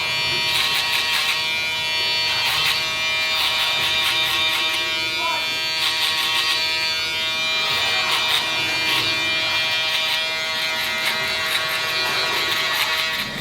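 A steady high-pitched Babyliss FX3 electric shaver buzz runs throughout, close and loud, with faint speech underneath.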